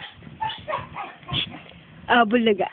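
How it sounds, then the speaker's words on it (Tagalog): A dog barks and yips a few times, short and close, mixed in with someone talking fondly nearby. "natahol na yung aso"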